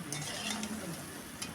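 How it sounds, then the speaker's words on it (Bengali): Potatoes frying in a pan with a little salt, giving a steady, moderately loud sizzle with faint stirring clinks throughout, no talking. "আলুটা কিন্তু আমি ভেজে নিচ্ছি"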